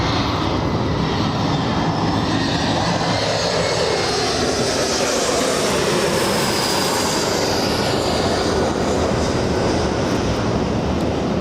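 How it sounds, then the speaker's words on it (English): Aircraft engines roar loudly and continuously at Los Angeles International Airport, a near, broadband rumble that swells and shifts in pitch as a plane passes overhead, with no voices. "These planes keep interrupting the host of LA flights."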